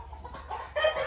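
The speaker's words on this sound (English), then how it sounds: "That is a rooster. He's walking very proud." A proud rooster walking in a backyard flock gives a few short, low clucks, then a louder, brighter call near the end of a one-second burst, close to the microphone with no talk.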